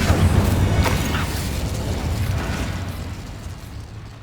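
A fire spell cast in the Hogwarts Legacy video game gives a loud whooshing burst of flame that rumbles and then slowly fades away.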